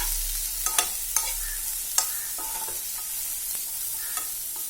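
Sausage and green chillies are stir-fried in a pan, with crisp spatula clicks and scrapes at irregular intervals over a faint, steady sizzle.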